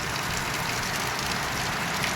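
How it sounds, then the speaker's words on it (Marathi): Steady, dense hiss of the year's first heavy rain beating down, with a constant broad wash of gusting wind along with it; no voices. "आपल्याकडे बघा वारा आणि पाऊस"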